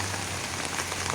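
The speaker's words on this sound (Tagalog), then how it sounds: "At sa ngayon ay meron na pong ulan" Steady rain patters onto a backyard vegetable garden, a dense, even hiss of drops with a low steady hum underneath, close and continuous with no voices.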